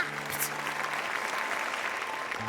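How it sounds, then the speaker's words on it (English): Clapping from an audience at the end of a children's play fills the short moment, a steady close patter of many hands, moderately loud with faint tonal background sound underneath. "At the end of the play, everyone clapped."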